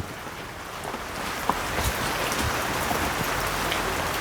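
Steady rain falls outdoors in Thailand, a dense even hiss of drops on surfaces with scattered louder patters, constant throughout with no talk.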